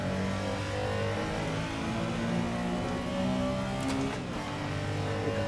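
A Porsche 911 RSR race car in Assetto Corsa at Mugello holds a loud, steady high-rev engine drone, a dense continuous roar with slight pitch shifts and no talk.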